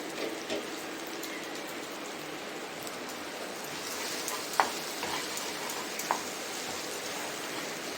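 Curry leaves crackling in hot oil within a mushroom curry, a soft steady sizzle with a few sharp pops, fairly quiet and close, no speech.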